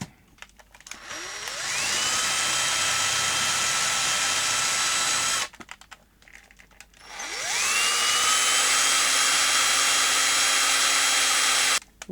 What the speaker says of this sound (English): you have to be careful with the drill, of course. You mustn't let it plough in and hit the deck.